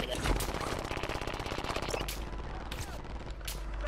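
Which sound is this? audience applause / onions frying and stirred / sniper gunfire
sniper gunfire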